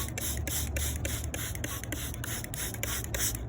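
Repeated short bursts from a hand spray bottle misting water onto a staghorn fern, about a dozen quick regular squirts close by with no talking.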